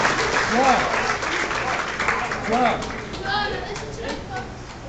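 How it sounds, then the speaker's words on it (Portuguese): Audience applause at a gathering in a Spiritist association hall, steady crowd clapping that rises and falls over several seconds while someone speaks over it. "Palmas para a Joana, que já vai nos convidar para cantar"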